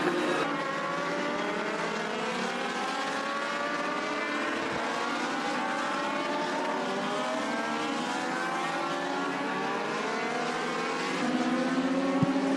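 Race cars at a Thursday Thunder round roar around a racetrack, engines droning continuously with rising and falling pitch as the field passes, a loud steady wash of motor noise with no talk.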